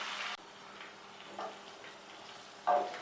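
A soft, steady sizzle of spices frying in hot oil, with a few brief louder bursts of crackle and stirring scrapes.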